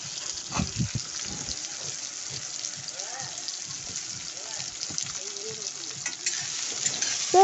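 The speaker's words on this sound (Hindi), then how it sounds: "ये देखिए बैंगन फ्राई हो रहा है।" Brinjal (eggplant) fries in a pan, giving a steady close sizzle with occasional stirring clatter. A person talks over it.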